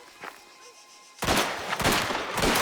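Gunfire in the video game Mafia: The Old Country, a revolver among the weapons, breaks out after a quiet lull into a loud, rapid volley of overlapping shots that keeps going.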